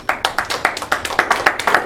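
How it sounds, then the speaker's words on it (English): A live audience claps at a show, scattered hands joining into brief, moderately loud applause with sharp irregular claps close by. "let's hear it by applause if you're a grandparent"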